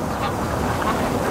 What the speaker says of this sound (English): Oh, look at that duck go.